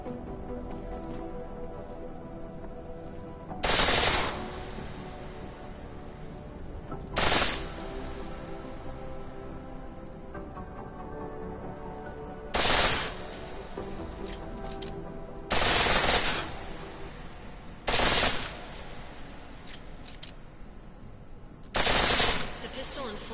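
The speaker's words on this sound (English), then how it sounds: "The pistol in full auto will take down targets fast, but it'll burn through your ammo." Full-auto pistol fire in Deus Ex Mankind Divided: six short, sharp bursts spaced several seconds apart over a steady low ambient hum, with a voice speaking in the background.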